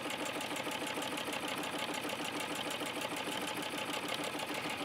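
Sewing machine stitching along vinyl for a garden knee pad cover, a fast even mechanical whir and tick running steadily and close, quiet, with no voices.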